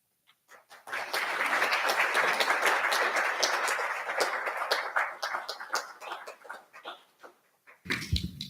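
Audience at a university student government senate meeting claps for a candidate, a sustained round of applause rising after a brief start, tapering into scattered claps, then a short burst of rumbling noise at the end.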